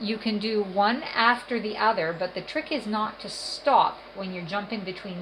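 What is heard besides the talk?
No everyday noises stand out.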